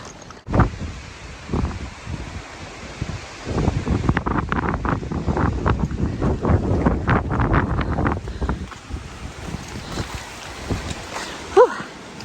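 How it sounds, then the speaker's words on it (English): Gusty wind buffets the microphone on a mountain hiking trail, a rough broadband rush that swells loud and steady through the middle, then eases, with a hiker's breathing and brief sounds under it. "Breezy."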